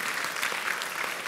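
Audience applause welcoming a guru at a Buddhist temple gathering, a brief steady wash of clapping with no pauses, fairly soft and heard from within the crowd.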